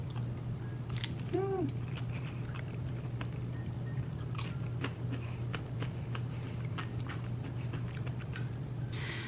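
Crunchy bite of food from a homemade meal, a few crisp close crunches and chewing sounds over a steady low hum, no talking.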